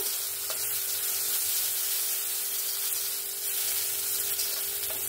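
Steady close sizzle of green chillies and spices frying in a pan while being stirred, continuous hiss with faint scraping, no voices.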